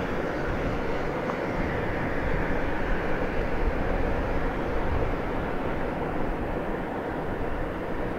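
CSX freight train heading west from Selkirk, New York toward Chicago, rolling past a railroad crossing: a steady, loud, continuous rumble and roar of cars passing, seen from a long-range viewpoint, with no voices.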